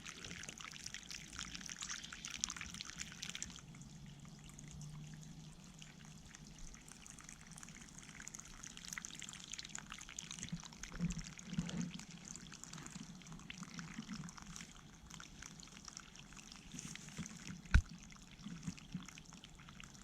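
Water flows continuously through a small model river and delta on a stream table, a faint, steady trickling and splashing with a few soft drips.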